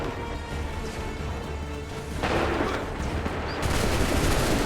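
Musket volleys fired on command in Assassin's Creed III, a dense crackling burst of gunfire that swells midway and surges again near the end, loud and continuous with little pause.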